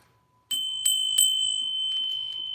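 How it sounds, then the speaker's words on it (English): Korean bell struck by a light tap, giving a bright sustained metallic ring with a couple of quick extra strikes early on, close and ringing on alone. "And tap the Korean bell"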